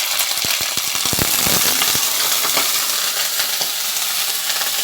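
Loud, steady sizzling of meat frying in hot oil in a pot, with a burst of sharp crackles and pops early on that settle into a constant hiss.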